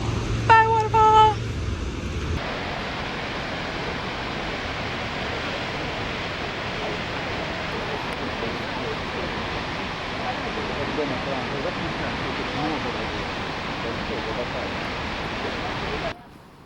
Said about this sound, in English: Bye, waterfall!